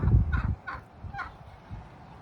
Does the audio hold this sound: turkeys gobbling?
yes